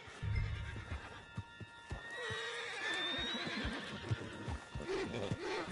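A horse whinnies with a rising, wavering cry over hoof clops and rustling movement, close and fairly loud, in the video game Red Dead Redemption 2.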